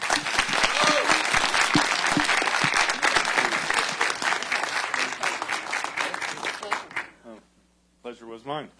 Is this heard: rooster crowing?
no